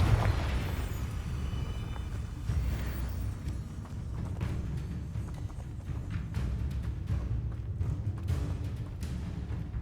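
A Confringo fire-blast spell cast in Hogwarts Legacy, sounding as a dense, loud burst and crackle within steady game noise, with hoof-like thumps and rumbling effects running throughout.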